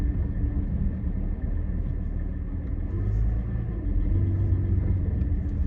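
A 2021 Porsche 718 Cayman 4.0 GT4 with PDK idles while warming up, a steady low rumble that holds evenly throughout with no talk over it.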